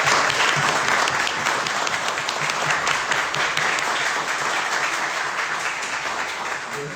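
An audience at a history roundtable gives loud, sustained applause, dense clapping from many hands that stays strong and then eases slightly toward the end.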